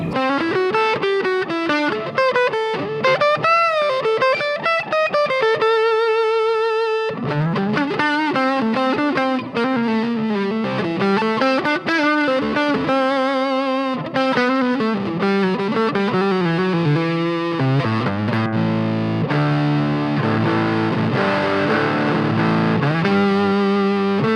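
A distorted electric guitar plays a fast, fluid shred or fusion lead line with sustained bends and quick runs through a stereo two-amp setup, loud and up front with a saturated, slightly noisy tone.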